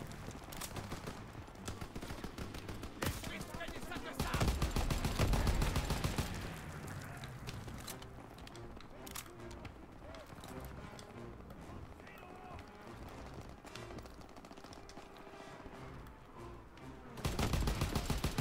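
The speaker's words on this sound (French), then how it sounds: "Je tire au pif, hein." Scattered gunshots from the World War II shooter game Call of Duty: WWII, set at the Rhine, pop out in a few loud bursts amid busy battlefield noise. Someone talks over most of it.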